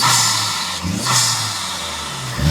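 An Acura Integra Type S engine revving close by after aftermarket upgrades, a loud, steady engine roar that swells once in the middle and then settles.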